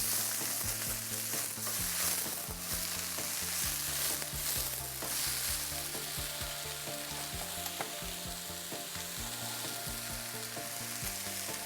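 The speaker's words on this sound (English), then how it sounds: "we will let it cook and get sauteed for another minute" Vegetables sautéing in a pan ahead of fresh spinach, a steady, close sizzle and crackle running throughout with no talking, while a low musical bed hums beneath.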